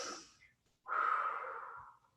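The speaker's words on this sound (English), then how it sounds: "So just take 3 deep breaths." A person in child's pose during a fitness class draws slow, deep breaths, a short exhale followed by a longer, louder breath close to the mic, with no talking.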